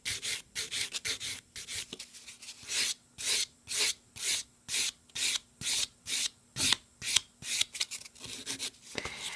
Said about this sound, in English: now I'm going to take my sponge buffer. Just going to give this a quick little buff to make sure it's nice and smooth.